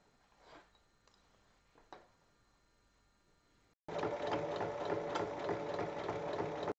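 A sewing machine stitches fabric pieces together along their height for an organizer case. After a few seconds of quiet handling, the motor starts and runs loud and steady to the end.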